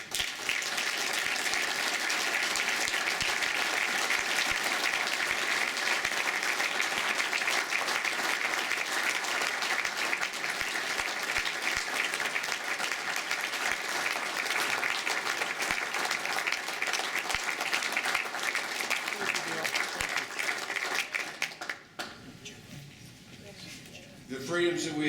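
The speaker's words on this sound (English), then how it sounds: "let's give them our round of applause" Sustained, dense applause from a large audience honoring standing veterans at a Ducks Unlimited 75th anniversary event in Madison, Wisconsin, steady and full for about twenty seconds before dropping away into quieter room noise.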